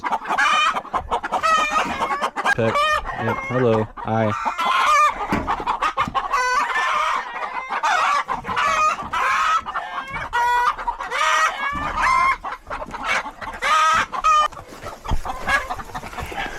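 Many chickens in a coop cluck and squawk loudly and continuously nearby, with occasional crowing and a few brief spoken words mixed in.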